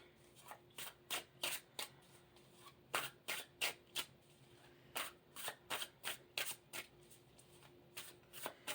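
A tarot card deck being shuffled by hand, with rapid rhythmic bursts of riffling and flicking repeated at close range in a quiet room.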